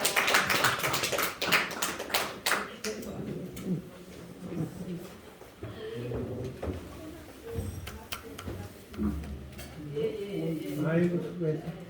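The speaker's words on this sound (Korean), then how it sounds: "하나님께 영광의 박수 올려드립니다." Church congregation applauding during a Christmas worship service: a burst of clapping near the start that thins out, then speaking voices take over.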